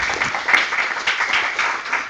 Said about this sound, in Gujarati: આપણે એનું તાળીઓથી સ્વાગત કરીએ સ્ટેજ પર.